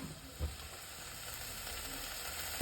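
Crushed spices and chilies frying in a pan for a sardine dish give a soft, steady sizzle and hiss throughout, quiet and close, with one small clatter near the start.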